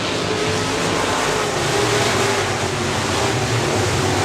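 Sportmod race cars roar around the US 30 Speedway oval, a loud, continuous wash of engine noise at full throttle with no voices.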